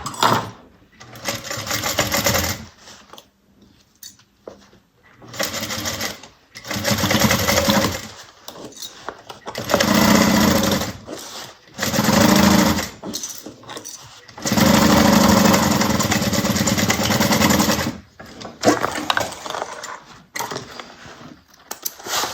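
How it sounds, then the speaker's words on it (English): A sewing machine stitches a 3/8-inch seam while making the Finesse by Really Creative by Rosemary, running close and loud in repeated bursts of several seconds separated by short pauses. "So we're going to sew down at 3/8 of an inch."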